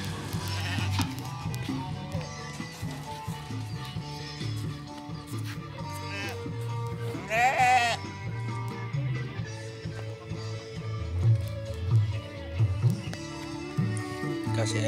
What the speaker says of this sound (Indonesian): kandang kambing.